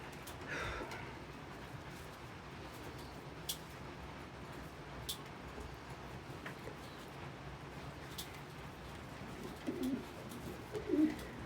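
Pigeons or doves coo faintly outdoors on a cold, wet day, soft low calls rising near the end over steady background noise.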